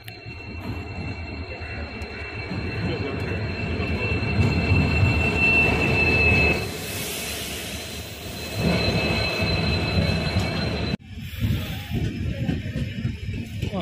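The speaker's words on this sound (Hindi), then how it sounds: "और गाइस अभी ट्रेन आ गई है" A Humsafar Express train pulls into a station with a loud, steady rumble of rolling wagons and a sustained high wheel squeal that fades, then breaks off abruptly before the rumble continues.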